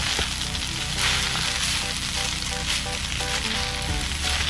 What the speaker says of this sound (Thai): เสร็จแล้วเดี๋ยวผัดเนี่ย ผัดอันสุดท้าย